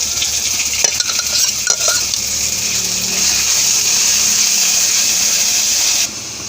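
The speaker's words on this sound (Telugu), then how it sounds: "ఇప్పుడు మనం గ్రైండ్ చేసి పెట్టుకున్న పుదీనా ఉంది కదా, ఇది కూడా వేసి వేయించుకోవాలి" Steady, loud sizzling of ground mint frying in a hot pan for mint rice, with a few stirring scrapes and clinks early on, then the sizzle cuts off abruptly.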